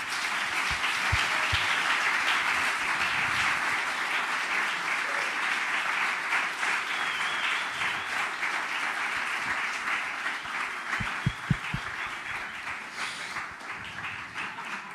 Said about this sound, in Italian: un grande applauso a Gero Arnone e Eliana Albertini